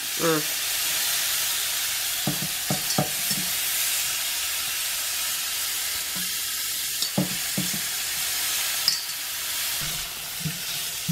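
Marinated shrimp sizzle and fry steadily in a hot pan, a continuous bright hiss running throughout, with brief voices and a few soft clinks breaking in now and then.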